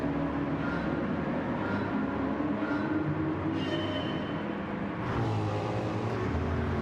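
Car engine in Gran Turismo 7 racing game, a continuous droning engine note that rises and shifts as the car accelerates, with no talk over it.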